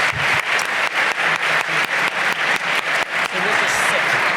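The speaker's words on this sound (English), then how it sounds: "Thank you very much to our panelists. Round of applause." An audience at a Canadian Club Toronto outlook event gives the panelists a round of applause, loud, close, rhythmic unison clapping that settles into a steady wash of claps by the end.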